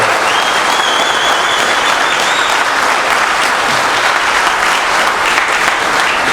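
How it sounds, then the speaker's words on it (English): A church congregation clapping loudly and continuously, dense applause with a faint whistle-like tone riding over it early on. "let's applaud him and thank God for him."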